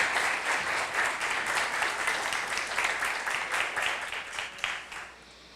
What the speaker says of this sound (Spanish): Recibamos con un aplauso a José María Gasalla